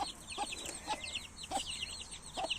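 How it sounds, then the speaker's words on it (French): Soft, repeated clucking from a hen with high, chirpy peeping of chicks throughout, close by and steady. "Voilà mes poussins et ma poule maman."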